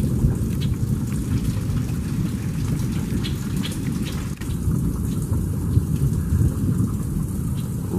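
A thunderstorm near a tornado brings steady heavy rain and rumbling thunder throughout, with a continuous roaring wind beneath.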